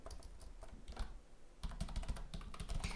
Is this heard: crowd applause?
no